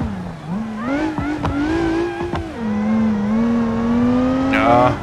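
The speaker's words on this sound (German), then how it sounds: "Aber der Motor überdreht schnell." A car engine in the driving game BeamNG.drive revs hard and climbs toward over-revving, its rising harmonic whine loud and close and running continuously with brief tire-like squeals near the end.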